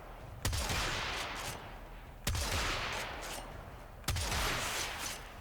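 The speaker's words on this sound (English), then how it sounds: "this is what the air burst looks like, the flat cannon." Three heavy air-burst blasts from the Corinth shotgun in the Warframe video game, spaced roughly two seconds apart, each a sharp crack followed by a booming, rumbling tail.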